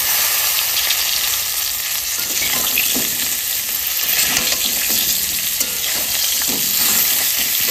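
Cauliflower and potato sizzle loudly in a pan of hot oil spiced with dried chillies, cumin and bay leaf, with repeated scraping and stirring strokes over the continuous fry.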